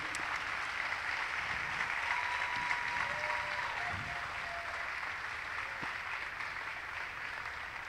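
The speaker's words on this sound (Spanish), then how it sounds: "Un fuerte aplauso a aquel que vive y que reina." A congregation at a church service breaks into sustained applause, a dense, even wash of many hands clapping throughout, heard at a moderate, somewhat distant level.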